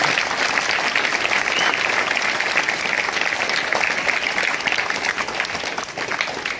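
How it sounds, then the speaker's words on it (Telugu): Sustained, dense audience applause fills the hall at an AIDS awareness gathering in Darsi, steady and loud throughout with no talk over it. "ఒక్కసారి వాళ్ళందరికీ గట్టిగా చప్పట్లు కొట్టండి"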